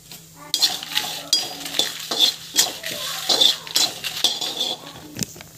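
Curry leaves and dried chillies sautéing in a pan, with repeated clinking and scraping of a metal spoon against the pan over a light sizzle, irregular close strokes throughout.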